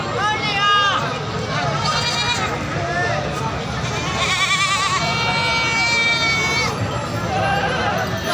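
Young goats at a livestock market bleat repeatedly and overlap, with several kids calling at once under steady crowd babble and someone speaking nearby.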